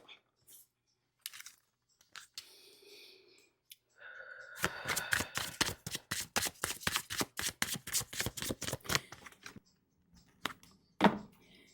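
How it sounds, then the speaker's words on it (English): An oracle card deck is shuffled in a long run of quick, crisp riffling snaps after a few soft handling sounds, close and fairly quiet, with no talking. "Allow me to shuffle."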